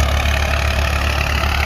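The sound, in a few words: 1998 Massey Ferguson 240 tractor engine running thresher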